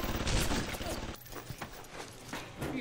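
In the game Bioshock Remastered, a turret fires a rapid burst of loud gunfire and dense rattling shots that continue throughout, with a player talking over them.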